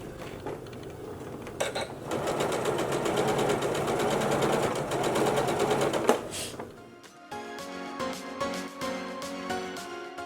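A sewing machine stitches fabric along a straight line for a DIY tube top, a close, steady mechanical whir with rapid needle chatter that stops briefly, then gives way to lighter, tonal machine sounds.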